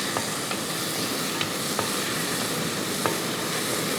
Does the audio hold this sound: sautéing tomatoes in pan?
yes